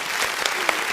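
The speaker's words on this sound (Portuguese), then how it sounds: "Ê, palmas!" A small group applauds in a podcast studio with soft, steady clapping, fairly quiet, briefly filling the room without any talk.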